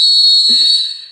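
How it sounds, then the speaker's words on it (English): A single shrill whistle blast rings out loud and close, holding a steady high pitch before tapering off, with no talk over it. "Saved by the whistle."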